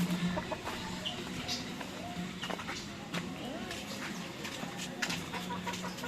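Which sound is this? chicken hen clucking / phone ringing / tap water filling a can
chicken hen clucking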